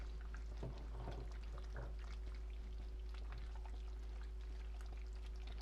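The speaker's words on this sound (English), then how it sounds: "take some of that reserved tomato sauce and just pour a little bit in there" Reserved tomato sauce, made from whole plum tomatoes broken apart, is poured in a brief, quiet splash into a pot of healthy chili, with soft liquid trickling and no talk.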